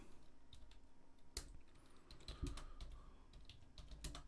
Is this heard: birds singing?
no